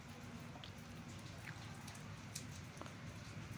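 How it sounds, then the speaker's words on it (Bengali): Chhanar jilapi sizzles gently in refined oil in a kadai, a quiet, steady crackle with scattered small pops throughout and no talking. "এবার আমি ছানার জিলাপিটা একটা একটা করে ভেজে নেব।"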